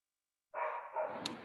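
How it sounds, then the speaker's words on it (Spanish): A dog gives a single short bark followed by a second, softer yelp, close and fairly loud, over otherwise near silence. "yo tengo por aquí un perro ladrando también"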